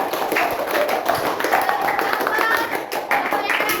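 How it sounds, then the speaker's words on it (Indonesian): Classroom applause for group 3 sounds as dense, steady clapping from many hands. It runs continuously and fairly loud for the whole stretch, with no voices. "Tepuk tangan untuk kelompok 3."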